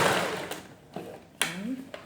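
A sewing machine stitching a lined princess-dart blouse around the neckline, short bursts of whirring motor and needle with brief pauses between them, close by, under a voice speaking.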